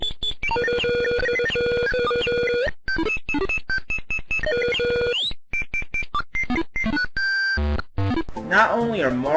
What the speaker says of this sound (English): the DOS version sounds like this